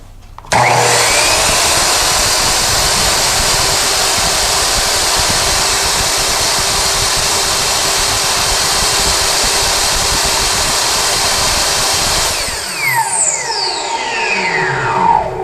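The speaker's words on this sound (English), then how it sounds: "Let's see what the noise levels are on the Kobalt miter saw." A Kobalt miter saw starts abruptly and runs at a loud, steady high-pitched whine for about twelve seconds, then winds down with a falling tone as the motor stops, close and alone without talk.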